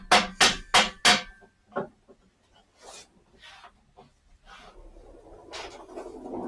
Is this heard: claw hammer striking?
yes